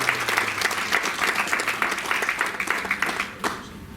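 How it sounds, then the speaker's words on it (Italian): A crowd at a press conference aboard the cruise ship MSC Magnifica applauds steadily for several seconds, a dense wash of many hands clapping that begins to thin out near the end. "Qui per me andrebbe un grande applauso per loro"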